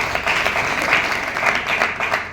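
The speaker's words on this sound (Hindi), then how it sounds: "ताली बजा के" An audience at a ceremony honouring guests in Dehradun gives a short burst of steady, dense clapping that welcomes an arriving guest and holds at an even level without talk.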